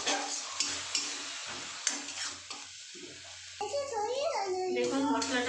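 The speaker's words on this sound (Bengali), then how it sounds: "সবকিছুকে দিয়ে আমি একটু মিক্স করে নেবো ভালো করে।" Dal fry masala being mixed in a pan, with soft scraping stir strokes and a gentle sizzle, a voice heard faintly alongside.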